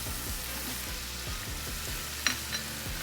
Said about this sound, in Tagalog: Hintayin lang po natin maluto yung ating ground pork.